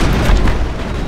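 A grenade detonating in the Mass Effect video game, a single loud, dense boom filling the whole short moment with rumbling low-end and no talk over it.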